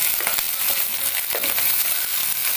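Chopped onions sizzle loudly in hot oil in a pan, a close, continuous crackling fry with scattered sharper pops and stirring scrapes, no voices over it.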